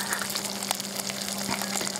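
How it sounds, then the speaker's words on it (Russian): Potatoes frying with pork fat in a pan, a dense crackling sizzle with scattered pops, steady and fairly soft, heard alone without voices. "Уже он шкварчит."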